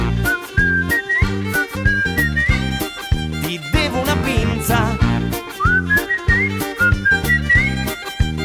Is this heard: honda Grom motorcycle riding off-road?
no